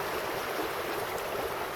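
A stream running high with dirty floodwater where two streams meet. The water gives a steady, dense rushing wash, close and continuous, with no talking over it.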